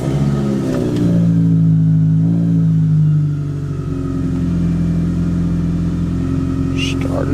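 A Mitsubishi Eclipse 4G engine with a newly installed alternator idling close by, a steady low rumble with a slight rev near the start and faint talk over it.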